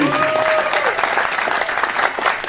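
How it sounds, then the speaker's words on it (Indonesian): An audience at a religious lecture breaks into loud, dense clapping that carries on through the moment, with a brief voice at the start. "Ini maksudnya apa tepuk tangan begini?"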